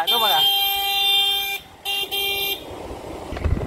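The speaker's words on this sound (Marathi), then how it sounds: "तो आपला अजून हॉर्न वाजवतो" A vehicle horn honks on a road with long, steady, blaring blasts broken by a brief gap, close by and loud, followed by rumbling traffic noise.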